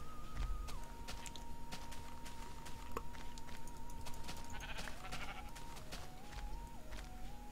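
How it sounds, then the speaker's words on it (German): Sheep bleating in Minecraft, with several faint bleats over quiet game ambience and light footsteps, and a musical tone running underneath. "Ja, davon sind ja richtig viele Schafe, sehr schön."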